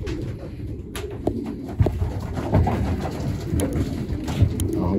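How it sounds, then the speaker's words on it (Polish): Racing pigeons in a loft coo softly and repeatedly up close, with scattered wing shuffles and small knocks in a quiet indoor space. "O, tu troszeczkę więcej siedzi gołąbków."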